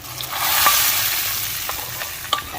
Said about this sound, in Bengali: ডাল বাগার দিয়ে নেওয়া হচ্ছে